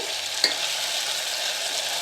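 Oil sizzles and crackles steadily as eggplant pieces fry in a pan, close up, with one brief clink near the start.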